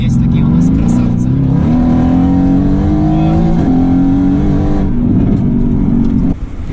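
A Mercedes-Benz GTS sports car with a 510 hp V8 and rear-wheel drive revs hard, its loud, close, steady engine note climbing in pitch in stages before easing off near the end.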